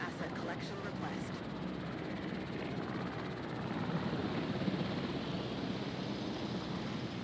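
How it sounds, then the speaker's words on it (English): A helicopter in the video game Jurassic World Evolution gives off a steady, broad rotor and engine roar that holds evenly throughout at moderate distance, with brief clicks at the start. "Might just fly the helicopter for Susie."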